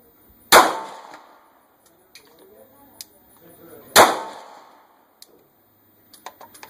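Two sharp gunshots about three seconds apart at target shooting practice, each loud and close with a short ringing decay, followed by faint clicks and handling noises.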